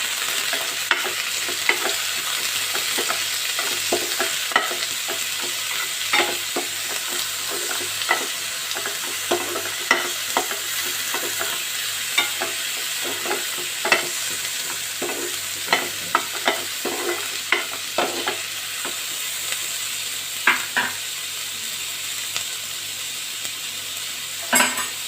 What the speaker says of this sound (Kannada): ಈರುಳ್ಳಿ, ಬೆಳ್ಳುಳ್ಳಿ, ಸ್ವಲ್ಪ ಶುಂಠಿ, ಸ್ವಲ್ಪ ಕೊತ್ತಂಬರಿ ಸೊಪ್ಪು ಹಾಕ್ಕೊಂಡು